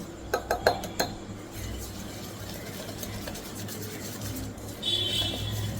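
Wheat biscuit dough ingredients get mixed in a bowl, a few sharp clinks of a spoon against the bowl at first, then soft continuous stirring and rubbing.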